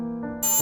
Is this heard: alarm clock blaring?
yes